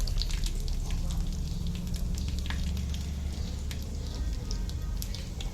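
Curry leaves crackle and sizzle in hot oil during tempering, a dense, steady frying hiss with fine pops running throughout at close range.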